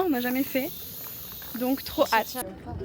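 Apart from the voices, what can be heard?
cicadas singing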